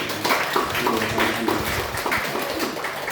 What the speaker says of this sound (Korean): 여러분들 박수로 환영해 주시기 바랍니다